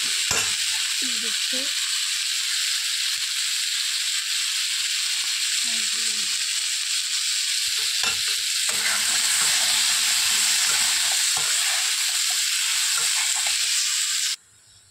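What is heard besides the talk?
potatoes frying with turmeric and cumin powder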